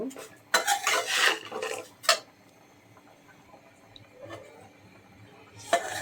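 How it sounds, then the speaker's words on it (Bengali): A spoon stirs dried shrimp bharta with fried garlic, onion and dried chilli in a pan, giving a few close scraping bursts early on, then quiet with a faint later scrape. "ভালো করে নেড়ে নিব"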